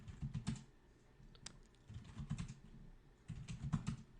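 Bursts of keystrokes clatter on a computer keyboard during a network telnet lab, coming in quick uneven clusters with short pauses between them, fairly quiet and close, with no voices.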